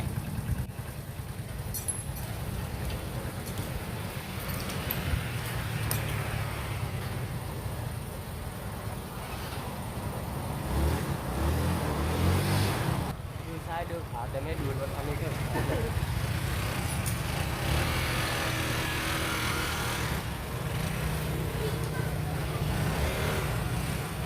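A motorcycle engine with a jerking fault runs in a repair workshop as the throttle is twisted, a steady close drone that swells and falls, with people talking over it.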